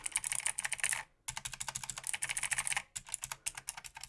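Keys are pressed rapidly on an RGB gaming keyboard, including the wider keys like the spacebar, giving a close, dense run of clicky keystrokes with two brief pauses and no talking.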